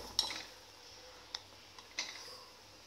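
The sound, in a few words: stirring a boiling pot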